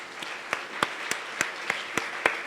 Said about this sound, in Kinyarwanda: tukomere Imana amashyi menshi.